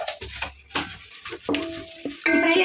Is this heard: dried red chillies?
yes